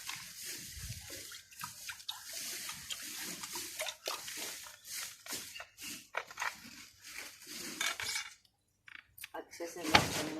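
Water splashes and sloshes as dishes crusted with leftover milk are rinsed and scrubbed in a village kitchen. Wet swishes and clinks come in uneven bursts with a short quiet pause, fairly faint, while a person talks throughout.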